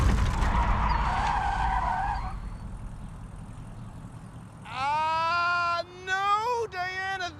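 A car brakes mid-swerve and skids into a spin, a loud tire screech that starts harsh and noisy, fades, then returns as sharp wavering squeals near the end.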